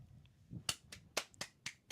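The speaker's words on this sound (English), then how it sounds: "Lexi, are you clapping a lot because we don't have the clap button?" A person claps their hands six times in an irregular rhythm, close and crisp, each clap a sharp isolated slap in an otherwise quiet room, with a soft murmur of a voice before the first clap.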